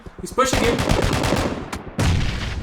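Rapid bursts of gunfire from a PlayerUnknown's Battlegrounds solo tournament match, loud and close, with a short volley followed by a second burst after a brief pause, while a commentator talks over the shots.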